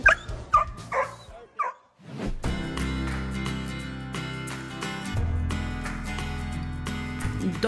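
Excited dogs at a homecoming, several barks and yips up front, a short pause, then a busy, loud bed of sound with layered tones, likely music, running under them to the end.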